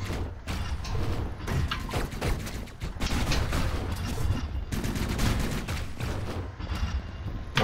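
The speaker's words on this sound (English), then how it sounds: "I might want to switch to the other railgun, just because of how it's gonna go." Heavy weapon fire from a railgun in Hyper Light Drifter's southern arena, a dense, continuous barrage of loud blasts and thuds with mechanical clatter running throughout, no pauses.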